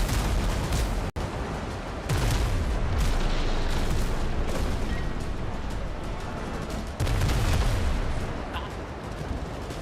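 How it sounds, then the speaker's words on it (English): Ship cannons fire in the pirate video game Windrose, a run of loud booming blasts with rumbling tails spread across several seconds, dense and close, with a voice briefly audible. "Why did none of those cannons hit?"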